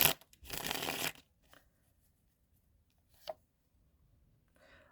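Tarot cards shuffled and laid down during a zodiac reading, a loud riffling burst at the start followed by a few soft, sparse flicks and taps of cards being placed.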